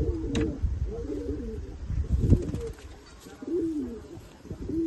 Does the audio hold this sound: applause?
no